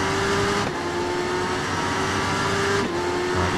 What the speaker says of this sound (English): It's spinning up a little bit.